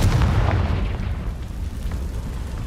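A Confringo blasting spell in the video game Hogwarts Legacy lets off a loud, deep boom that rumbles on and slowly fades across the whole stretch, with no talk over it.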